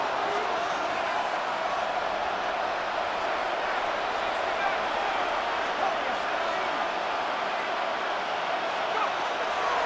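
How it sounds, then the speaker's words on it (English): A football stadium crowd at an Eagles–Falcons game roars as a dense, steady wall of noise, loud and continuous throughout with no break. "This crowd turning up the decibel level"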